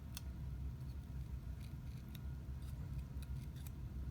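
Scissors snip into a paper flower cut from a design sheet, heading in toward the pollen centre: a few quiet, close, crisp clicks spread over steady low background hum, with no talking.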